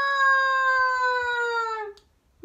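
A person imitates a cat with one long, drawn-out meow that slowly falls in pitch, then a brief quiet gap.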